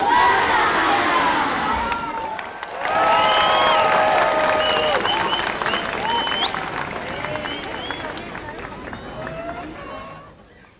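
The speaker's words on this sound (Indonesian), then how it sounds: "Beri tepuk tangan yang meriah" Audience applause and cheering after a gamelan-accompanied cultural performance by a youth art studio, with bright shouts and whoops over steady clapping, children's voices and crowd chatter mixed in. The applause swells after a brief dip and then slowly fades.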